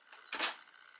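A single close shutter click from a Canon camera with a Neewer TT560 speedlite mounted off-camera, a short crisp snap that decays quickly into quiet room tone.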